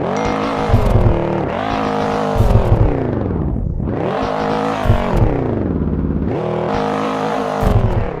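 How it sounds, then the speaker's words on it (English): A Lamborghini-like car engine in a Roblox racing game revs loudly, climbing and dropping in pitch through several long sweeps with no talk over it. "Let me just rev it up."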